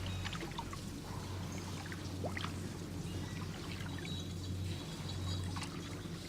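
Water draining away in Sherlock Holmes: The Devil's Daughter as the level is lowered, a steady low pouring and trickling wash with faint splashes, no talk.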